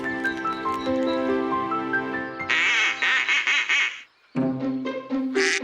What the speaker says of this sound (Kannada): ಆ ಶಬ್ದನ ನಾವು ಕ್ವಾಕಿಂಗ್ ಅಂತೀವಿ